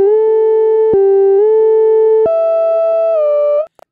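A bright, buzzy distorted wavetable lead synth preset from the Expand 2 library, playing sustained stepped notes with sharp pitch jumps. It stays loud and alone for nearly four seconds, then cuts off abruptly.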